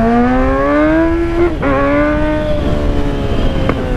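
A Kawasaki Z1000 motorcycle engine revs hard in a rising, sustained howl, briefly dipping as it shifts around the midpoint, then climbing again, loud and close throughout with no talking.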